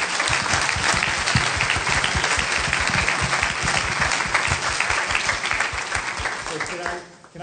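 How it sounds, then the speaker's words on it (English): Audience applause for conference panelists: a dense, loud, sustained clapping from a crowd that carries on evenly and then fades out abruptly near the end. "I'd like to invite you to a last round of applause for the panelists"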